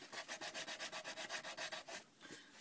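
Sandpaper rubs back and forth along the edge of a leather piece in a fast, even rhythm of about a dozen close scratchy strokes, then slows and fades near the end, with no voice.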